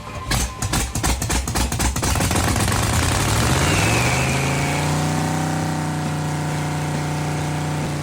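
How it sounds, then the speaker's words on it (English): Holden 308 V8 during cam break-in: starter cranking in rapid pulses, then the engine catches and revs up before settling into a loud, steady high idle close by. "Today, we're going to be doing the cam break-in on my Holden 308."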